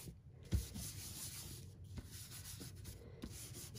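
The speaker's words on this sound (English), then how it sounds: "So now I'm going to go in with my embossing buddy. And I'm going to do the whole area here." An embossing buddy pad is rubbed over paper in quiet, close back-and-forth strokes, a soft dry swishing that repeats in an uneven rhythm of short passes with brief pauses.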